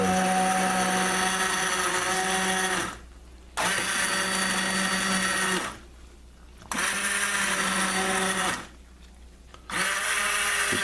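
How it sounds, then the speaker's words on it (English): Cuisinart food processor pureeing soaked bread with mushroom bisque solids, a loud motor whir running in four bursts separated by short pauses, with no voices. "You put that in the Cuisinart, everything that's in there, without the liquid, and it'll puree it."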